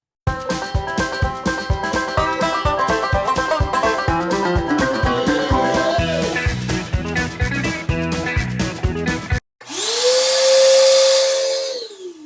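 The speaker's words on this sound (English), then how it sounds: "So if you run the Shopvac, we're getting up to about 110." A shop vacuum running without a muffler starts up with a loud, steady whining roar and rising motor pitch, following a stretch of music and heard close and alone.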